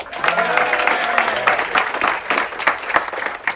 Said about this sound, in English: In your applause, Hannah